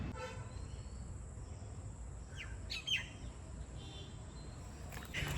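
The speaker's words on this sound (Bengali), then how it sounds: "ঝিঁঝির ডাক" Crickets trill faintly and steadily in a forest near Vasai fort at dusk, a thin continuous high drone with a few scattered bird chirps over quiet, hushed surroundings.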